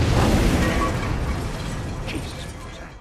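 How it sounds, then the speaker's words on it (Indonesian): A bomb blast strikes a car in a film scene, a loud broadband roar that hits at once and rumbles away slowly over a few seconds. "rupanya bom itu menyasar mobilnya Samidi"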